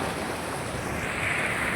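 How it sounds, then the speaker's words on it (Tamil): Water rushes along in full flow near a village during a storm, a dense, steady roar with wind noise over the microphone and no speech. "ஃபுல்லாக தண்ணி போயிட்டுருக்கு."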